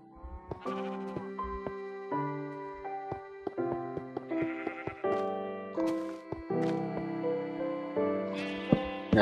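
Minecraft sheep bleat repeatedly in a game world, several wavering baa calls in quick succession over a busy tonal music-like backdrop, fairly close and steady throughout.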